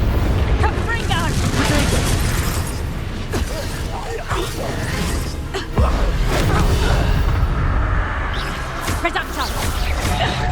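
Confringo fire spell blasts and impacts rumble through a chaotic Hogwarts Legacy battle, with repeated booms, whooshes and clattering effects under shouted spell names and other voices.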